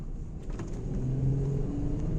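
A Volkswagen Touareg with the 3.2 VR6 engine on a test drive, heard from inside as a steady low engine hum and road rumble at moderate level with no talking.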